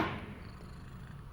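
Raad the cat purrs softly in a low, steady rumble, close and faint, with no talking.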